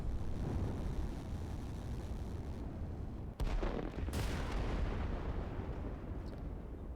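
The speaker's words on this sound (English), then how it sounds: "here comes the rocket. That's something that we need to make sure" Rocket strike exploding in the strategy video game Line War, a sudden sharp blast near the middle followed by a second broad burst over a constant rumbling battle-noise bed.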